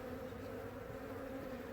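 Bees buzz around an open hive in Bracey, Virginia, a steady, dense droning hum that stays close and unbroken, with no talking.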